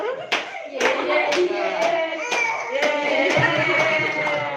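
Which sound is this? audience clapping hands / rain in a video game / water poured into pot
audience clapping hands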